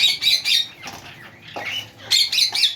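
A breeding pair of green pet birds squawks in close, harsh bursts, a cluster of calls at the start, softer chatter in the middle and another loud run of squawks at the end.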